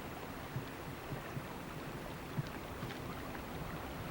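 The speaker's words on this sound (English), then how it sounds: "See the water whirling?" Faint, steady rush of moving river water with low swirling gurgles and a few soft knocks, heard from close by on the water from a small boat.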